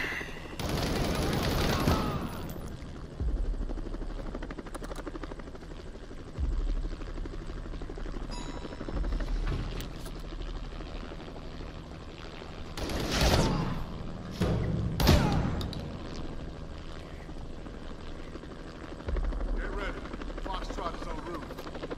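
A video game battle scene mixes a helicopter's rotor drone with bursts of gunfire and explosions, several sharp blasts punctuating a steady rumble over about twenty seconds.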